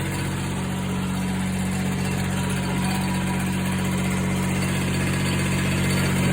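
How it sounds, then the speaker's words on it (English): A 782D engine runs steadily after a cold start at 35 degrees, a loud, constant low idle hum with a throbbing vibration and no pauses or talking. "And with that, we conclude the 782D cold start."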